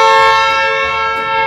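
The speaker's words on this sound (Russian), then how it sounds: "Мне вот всегда было интересно гудок на машине." Horn of a Rolls-Royce Cullinan luxury SUV held in one steady, loud, close blast with a rich stack of tones, sounding alone for about a second and a half.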